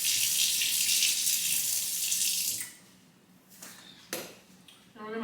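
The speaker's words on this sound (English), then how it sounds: "let me rinse this off first" Tap water runs hard into a kitchen sink for a few seconds while something is rinsed off under it, then the flow cuts and a few quiet clinks and a brief soft voice follow.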